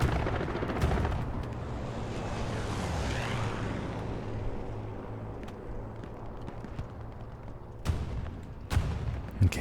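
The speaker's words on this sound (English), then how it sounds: "Strafing run comes in." A strafing run in the Hell Let Loose video game roars in as a long, loud rumbling sweep of aircraft and gunfire, easing off before a few sharp, distant blasts near the end.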